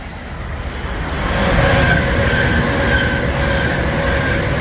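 A train rolls through Rugby station on the West Coast Main Line with a loud, swelling rumble of wheels on rail, high squealing tones rising as it passes nearby and the noise holding steady to the end.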